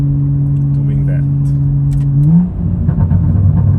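A BMW M135i hot hatch engine holds a steady drone, then revs up sharply and crackles with a burst of exhaust pops close by, with a faint voice briefly audible.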